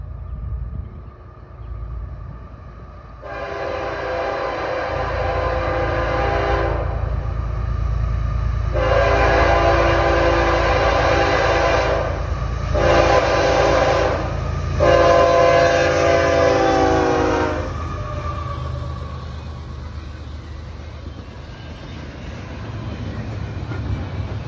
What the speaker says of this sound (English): CSX I-165 came west, heading for Schiller Park, Illinois, near Chicago, with its usual CPKC power